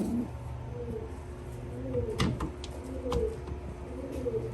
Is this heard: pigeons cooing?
yes